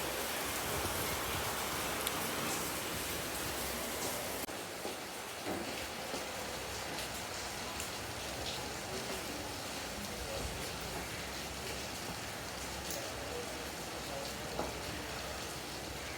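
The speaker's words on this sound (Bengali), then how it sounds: "এ বাবা, বৃষ্টি শুরু হয়ে গেল।" Steady rain pours down without pause, a dense, even hiss that holds at constant strength throughout, with no clear voices.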